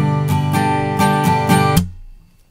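An acoustic guitar strums a common rhythm pattern of down and up strokes, bright ringing chords with accented beats, close and loud, then let ring to fade.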